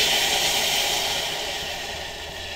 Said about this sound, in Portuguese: Agora eu vou largar a água.